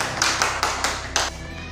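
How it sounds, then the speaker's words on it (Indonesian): A handful of sharp, evenly spaced claps from a small group in a classroom, about six distinct hits in a quick rhythm before stopping, with no talk over them. "tepuk tangan untuk kelompok"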